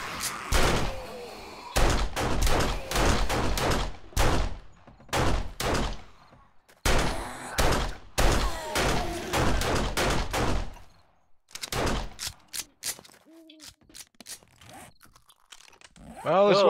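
Rapid gunfire from weapons in a zombie video game rings out in loud, dense bursts of repeated shots, with short pauses between volleys and scattered single shots toward the end.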